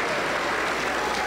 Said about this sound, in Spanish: un fuerte aplauso para el Señor Jesús, todos contentos, aplauda para el Señor